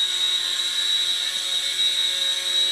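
An Air Hogs Star Wars Millennium Falcon toy helicopter flies with a steady, high-pitched whine from its small electric rotor motors, holding a constant tone throughout at close range.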